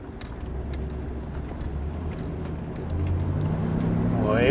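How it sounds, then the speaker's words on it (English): A car drives along old Route 66 toward Oatman. Its engine and road noise rumble steadily from inside the cabin, with keys jangling faintly, and the engine builds as it accelerates near the end. "this should just be a short drive into Oatman. Getting back on old Route 66"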